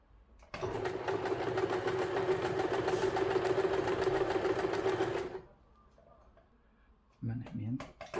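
A sewing machine stitches around a fabric edge, a steady close whirring run of rapid needle strokes for about five seconds before stopping, followed by a quiet stretch and then a voice speaking.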